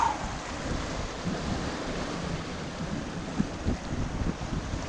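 A Hallberg-Rassy 54 sailboat on a downwind sail: steady rushing wash of waves and wind noise on the water, broadband and constant, with occasional thumps, no talking.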